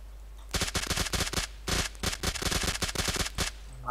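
Rapid bursts of automatic gunfire in a video game crack in quick clusters, loud and close, with short pauses between volleys.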